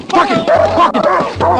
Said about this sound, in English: Quit fighting my dog!